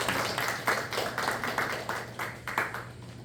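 A standing church congregation at a Korean Sunday service applauds, with a run of close, fairly regular claps in bursts that carry a rhythmic pulse over a low steady hum in the room.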